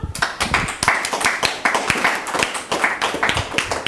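Participants at a teenage book discussion clap for a reader, a steady stream of sharp, close handclaps from a small group, fairly loud, with faint voices underneath.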